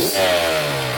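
A Honda CR80 dirt bike engine fitted with a Keihin PWK 28 carburetor runs loud and close, a harsh buzzing drone held for about a second.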